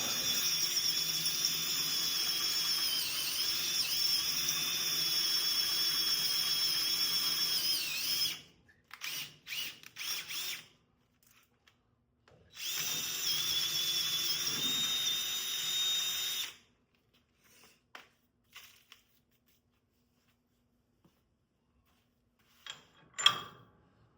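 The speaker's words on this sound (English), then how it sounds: "Let's drill that out." A power drill whines steadily for several seconds while drilling out a metal part of a car's steering rack, stops, then runs again in a second long burst, followed by quiet with a few light clicks and taps.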